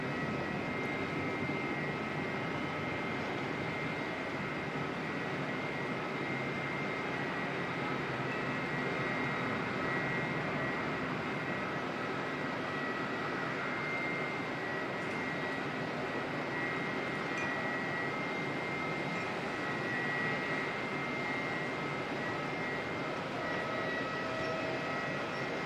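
Airliner NZ948 departs Auckland Airport bound for Rarotonga. A steady, broad jet roar holds at an even level for the whole stretch, with no speech over it.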